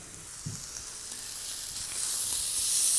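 A ribeye steak sizzles on a hot grill, a steady close hiss that swells louder toward the end with a light scrape near the start.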